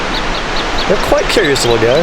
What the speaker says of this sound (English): These little finches, I don't know what they are.